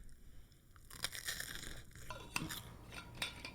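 Someone bites into a sandwich, giving several quiet, crisp crunches spaced about a second apart in a close, otherwise quiet room.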